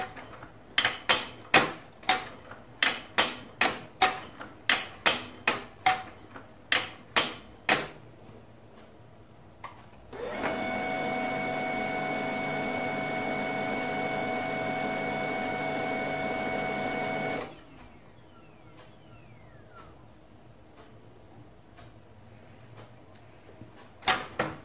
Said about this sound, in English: Open the lid 5 times.